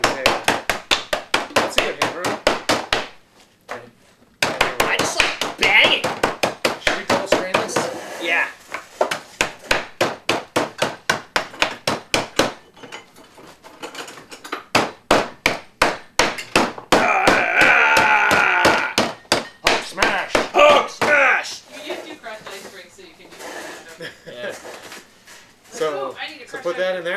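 An ice hammer cracks ice for New Orleans cocktails, a rapid string of sharp, hard blows repeated in long bursts with brief pauses, loud and close, while people talk throughout.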